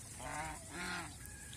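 Large domestic geese on a goose farm give two loud honks in quick succession, then fall quiet with faint background noise.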